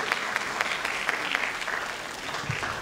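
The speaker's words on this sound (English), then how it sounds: "So give yourselves a round of applause for that." An audience of college students at a summer institute's opening remarks claps steadily, a dense, even round of applause filling the room with no talk over it.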